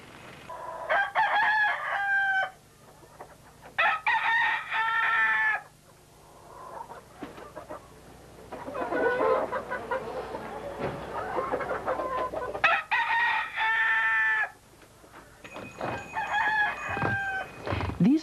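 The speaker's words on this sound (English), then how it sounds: "It's important to record wild sound, in this case, roosters." Roosters crow repeatedly, several long cock-a-doodle-doo calls in bursts with gaps between, joined by clucking and other fowl noises in the background.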